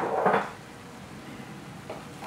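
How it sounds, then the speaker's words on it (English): Half a cup of frozen peas goes into a cooking pan with a short, close rattling clatter at the start, followed by quiet low background sound and a faint brief clink near the end. "At this point, I'm going to add a 1/2 cup of frozen peas."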